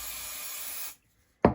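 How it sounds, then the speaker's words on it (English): A short burst of 505 temporary adhesive spray hisses onto fabric up close, a steady aerosol stream that cuts off abruptly, followed after a brief silence by a sharp knock. "I'm going to spray with a little bit of"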